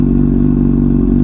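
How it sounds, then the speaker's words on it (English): A 2017 Honda CBR600RR fitted with a Hotbodies Stinger exhaust drones loudly and steadily up close, its deep exhaust note holding an even, rumbling pitch throughout. "I fully recommend the Hotbodies Stinger exhaust. It sounds amazing."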